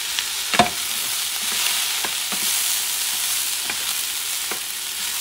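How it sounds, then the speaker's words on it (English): Sofrito being stirred into Puerto Rican rice with pork feet in a frying pot, a steady soft sizzle with a few scraping spoon strokes, close and alone with no talking. "you're going to add this fry here. And you're going to mix things up"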